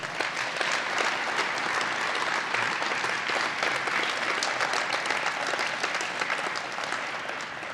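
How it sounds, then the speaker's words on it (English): An audience at a Michigan State University athletics event gives a round of applause for a student honoree, steady dense clapping from a large crowd that continues evenly for several seconds. "Let's give a round of applause to Lamar Walden."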